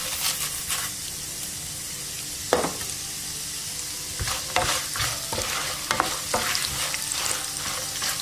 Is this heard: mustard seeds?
yes